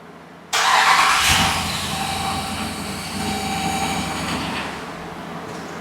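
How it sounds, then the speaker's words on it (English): A 2021 Dodge Durango 5.7 Hemi cranks on a freshly replaced starter and catches, a sudden loud start settling into a steady close idle with no talking. "now the moment of truth to see if it starts"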